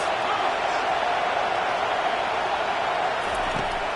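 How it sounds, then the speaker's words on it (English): Crowd noise fills a college football stadium as a steady, fairly distant roar with no distinct cheers, rumbling continuously in the background. "This crowd trying to make life miserable for this offense."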